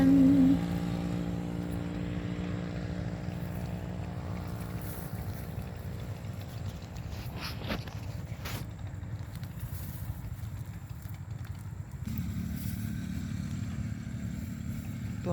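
Vehicles passing along a road beside a flooded rice field, a steady low motor rumble with wind buffeting the microphone and a brief higher tone near the start.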